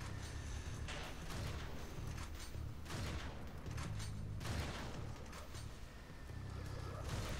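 Shotgun blasts in the retro shooter game Wrack, several heavy booming shots at irregular intervals over continuous game noise, fairly faint overall.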